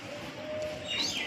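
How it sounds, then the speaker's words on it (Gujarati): A parrot gives a brief, faint rising chirp from some distance over a soft background hiss. "પોપટનો અવાજ આવે છે"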